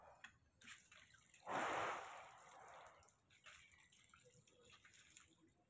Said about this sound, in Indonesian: Setelah itu baru kita siram.